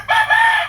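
A rooster on a chicken farm lets out a brief, loud crow, a close, shrill two-part call lasting under a second, alone without talk.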